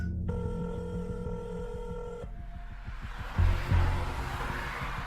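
Phone call sound effect: a bright tone sounds, then electronic dialing, and a call connects to repeated ringback pulses that continue over faint low rumbling, with a couple of soft thumps near the end.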